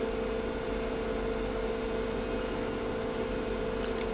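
An SGI Octane workstation sits in a lab, its fan and power supply producing a steady, even hum that stays constant throughout, with a couple of faint high clicks near the end.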